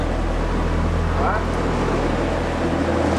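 A loud, constant low engine roar from a large fishing boat drones throughout, running close by, with a steady rumbling hum.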